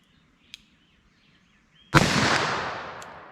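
.357 Magnum revolver fired once outdoors at a target 75 yards away: a single sharp, loud blast after near silence, followed by a long rolling echo that fades slowly, with faint birdsong before.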